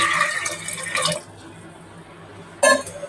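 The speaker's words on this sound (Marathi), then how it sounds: "तर मी इथे 1 तांब्या पाणी टाकून घेणार आहे" A pot of water is poured onto chickpeas in a home kitchen for chana masala, a short splashing pour near the mic, followed by a pause and a brief second splash.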